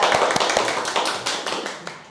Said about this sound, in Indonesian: Mungkin kita berikan tepuk tangan yang meriah untuk Mbak Sheila.